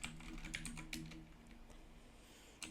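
Typing on a computer keyboard while writing code: a quick run of soft, close keystrokes at the start, thinning into sparse clicks, with a final tap at the end.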